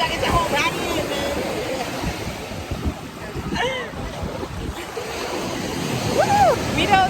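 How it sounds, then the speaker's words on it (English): Ocean waves at a beach wash in as a steady broadband roar, with wind buffeting the microphone and people talking and calling out over it. "See the waves getting bigger."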